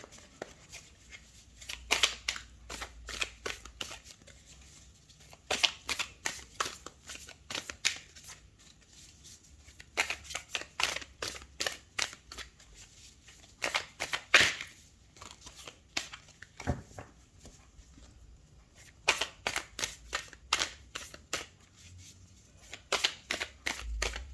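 Tarot cards are shuffled by hand in repeated bursts of quick riffling and slapping, close and crisp, separated by brief pauses, with no talking.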